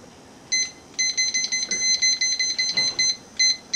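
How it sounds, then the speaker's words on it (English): A kitchen timer beeps in rapid repeated bursts of high electronic tones, close and fairly loud, with short gaps between clusters. "I always have my timer. This is my signature timer."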